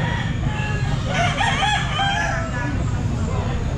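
A young gamecock stag crows at a busy pet market, its rising call ringing out close and loud over steady crowd murmur and low background noise.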